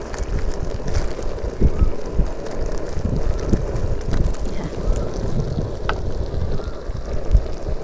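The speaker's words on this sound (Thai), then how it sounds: "ลมแรงครับเพื่อนๆได้ยินเสียงลมนะ" Strong wind buffets the microphone outdoors by a river in a steady low roar, with gusts rising and falling and occasional faint knocks.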